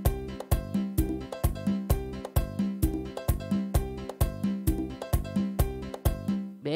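Merengue rhythm pattern playing on a Yamaha PSR E463 keyboard: steady, fast repeating drum hits with bass and accompaniment, a loud and even groove that loops without pause and has no voices over it.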